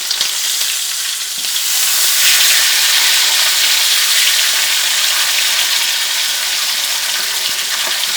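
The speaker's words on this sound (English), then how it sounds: "We're just going to cook him up on the edge like that for a minute" Beef seared on its edge in a hot pan for braising, sizzling and crackling loudly and steadily throughout with a dense, continuous fry hiss and no voices.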